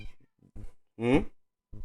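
A pet cat gives one clear, drawn-out meow, close and fairly loud, set between short bits of a voice and soft murmuring.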